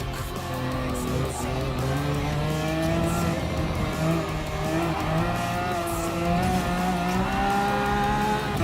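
A Lamborghini hypercar in Gran Turismo Sport revs up under throttle, its engine tone climbing steadily and staying loud and continuous throughout.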